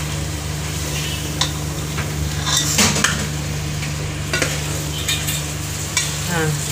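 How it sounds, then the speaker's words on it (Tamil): A spoon scrapes and stirs double beans with masala in a frying pan, soft sizzling running underneath and a few sharp clinks of metal on the pan. "டபுள் பீன்ஸ் வந்து இந்த மசாலாலாம் படுற மாதிரி நல்லா கிளறிக்கோங்க"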